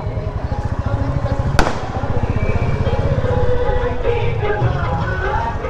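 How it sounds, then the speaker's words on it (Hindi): Diwali firecrackers go off in Patna during the 2021 festival: one sharp, loud bang cracks out amid a steady, throbbing engine rumble and busy street noise. "पटाखे तो छूट रहे हैं भाई खूब।"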